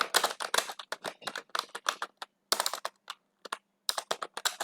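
Fingers typing HTML heading code on a computer keyboard: rapid, close, crisp key clicks in short bursts separated by brief pauses, with no talk.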